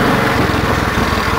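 A small Cushman utility vehicle engine running while riding through snow, a steady buzzing, close and loud throughout with no pauses.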